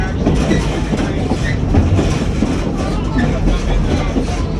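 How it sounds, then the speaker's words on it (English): A passing train rumbles steadily along the tracks close by, a dense continuous roar with faint rhythmic clatter throughout. "on the other side of those tracks, you can see the train."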